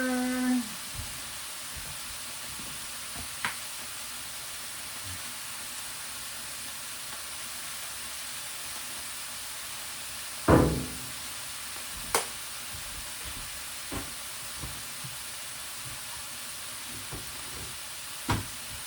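Pork pieces browning in an electric skillet, giving a soft continuous sizzle with occasional sharp clinks and taps of a utensil against the pan.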